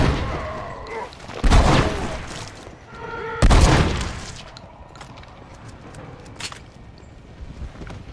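Two loud, sharp semi-auto shotgun blasts with echoing tails about two seconds apart in Red Dead Redemption Undead Nightmare, followed by quieter game ambience and faint distant pops.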